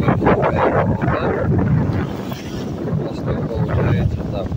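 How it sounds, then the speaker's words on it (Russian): Steady north-east wind buffeting and rushing across the microphone by the sea at Taman, continuous broadband roar throughout with a faint Russian-speaking voice underneath. "Ветер получается северо-восточный."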